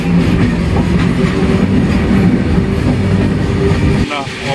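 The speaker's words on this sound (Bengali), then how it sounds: "আমাদের ট্রেনটি আর এই মালগাড়ি সমান গতিবেগে ছুটেছে" The Howrah–Puri Super Fast Express runs alongside a freight train, heard from on board as a loud, continuous rumble of rolling wheels with clattering rail joints throughout.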